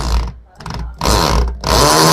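A power tool with a socket drives screws into a wall while a Portronics My Buddy L folding wall-mounted table is being fixed in place. Loud, close whirring comes in three bursts with short pauses between them.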